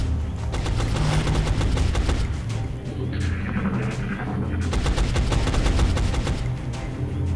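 Sustained suppressive gunfire in the XCOM: Enemy Unknown video game, long rattling bursts of automatic fire with a short lull midway, loud and continuous with booming impacts mixed in.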